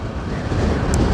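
Dusty wind gusts hard against the microphone during a vehicle ride, a loud, close, continuous rumbling buffet throughout the short stretch.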